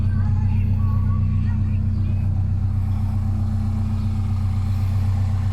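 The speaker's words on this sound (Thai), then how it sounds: "เครื่องยนต์เดินนิ่งเงียบเรียบดีนะครับ" A 2002 Honda CR-V 2.0E 4WD idles with a steady, low, even engine hum that stays constant, while someone talks over it.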